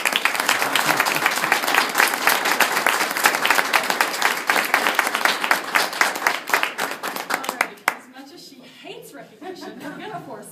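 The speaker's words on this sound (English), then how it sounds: "please join me again in just a round of applause." An audience at a humanitarian of the year recognition gives a loud, sustained round of applause that stops abruptly after about eight seconds, leaving murmuring voices and light room sounds.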